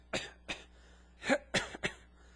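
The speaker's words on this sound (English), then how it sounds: "when you clear your throat, you go ha" Several short, raspy throat-clearing bursts in quick succession, close and fairly loud, irregularly spaced over a couple of seconds.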